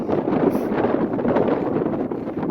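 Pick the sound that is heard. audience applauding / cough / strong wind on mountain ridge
strong wind on mountain ridge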